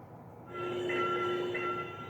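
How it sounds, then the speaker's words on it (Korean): A train passes with a steady rumble as a loud, sustained horn blares for over a second, then fades slightly, as it enters a level crossing and collides with a bus. "건널목으로 들어오던 열차가 버스와 부딪히고 놀란 시민들이 소리를 지릅니다"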